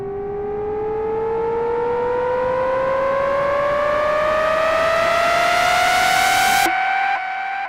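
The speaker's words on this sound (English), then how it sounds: "Now on LFO 2, I have it set to 4 bars because that's how long this riser is" Synth riser for an EDM transition, a bright harmonic tone whose pitch bends steadily upward over about seven seconds under LFO modulation, loud and sustained, then cutting off abruptly with brief fragments after.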